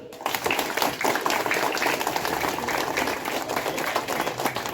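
A group of children claps hands on command during an outdoor drill session, producing a dense, steady patter of applause that lasts several seconds at moderate loudness.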